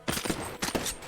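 An automatic gun in Titanfall VR fires in rapid bursts, close and loud. Two quick clusters of crackling shots are separated by a brief pause.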